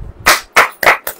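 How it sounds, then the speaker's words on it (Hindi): Congregation clapping hands at a Hindi church worship service, four sharp, loud claps spaced about a third of a second apart, with no talk over them. "ताली बजाएं।"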